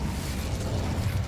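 A fiery blast from the Incendio spell in Hogwarts Legacy, a dense low roaring burst of flame that holds steady for over a second, loud and close.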